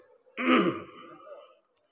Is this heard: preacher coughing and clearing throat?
yes